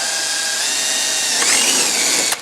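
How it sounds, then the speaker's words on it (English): A power drill whirs steadily up close, drilling a hole in a windshield for a 2015 Polaris 900 Trail, its pitch rising as it bites through, then a sharp click as it stops. "just drill that out"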